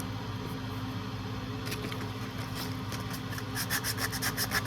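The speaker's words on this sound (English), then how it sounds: "I'm using a combination of a rough grit to get some of the ridge lines out and a fine grit to" Sandpaper in rough and fine grits rubs back and forth over wood for a display shelf. The close, scratchy strokes grow quicker and more rhythmic toward the end.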